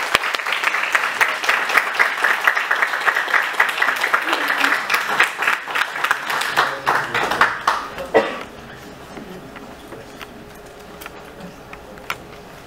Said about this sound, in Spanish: Recibamos con un fuerte aplauso al doctor Francisco Guillermo Herrera Armendia.